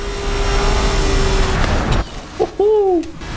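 A car driving in Forza Horizon 5, a loud engine roar that drones steadily, then cuts off, followed by brief whining and rising synthetic tones.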